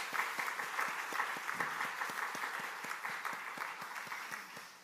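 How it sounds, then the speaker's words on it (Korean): Applause from a church congregation honoring elderly members of a mission society, a steady wash of many hands clapping throughout at moderate distance, slowly thinning toward the end. "우리 박수 한 번 더 치십시오."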